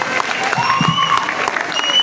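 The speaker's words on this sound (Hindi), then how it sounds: "जोरदार तालियों के साथ स्वागत करेंगे" A crowd's applause, dense and continuous, fills the hall to welcome a poet at a kavi sammelan and mushaira poetry event at BHU, with some murmuring mixed into the steady clapping.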